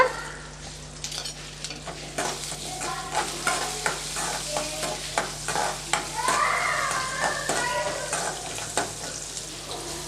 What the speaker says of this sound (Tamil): கருக விட்டுறாமல் நல்லா வதக்கிக்கலாம்